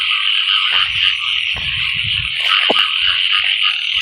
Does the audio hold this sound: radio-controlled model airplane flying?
no